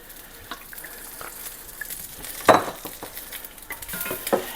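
Olive oil sizzling in a pan while beef bourguignon is cooked, a close, crackling hiss that swells partway through, broken by clinks of a utensil against the pan.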